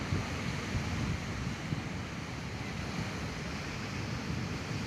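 Large ocean waves break on the shore in a continuous, heavy roaring wash, close and loud with steady surging and no voices.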